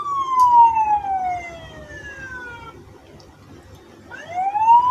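Electronic alarm siren from an auto-tracking AI security camera triggered by motion, a loud wailing tone sweeping down then rising again, close with no speech.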